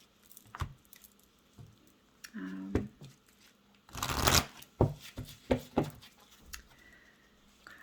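Tarot cards being shuffled during a reading, a series of soft riffling bursts and flicks with one longer, louder shuffle in the middle, close and intimate in a quiet room.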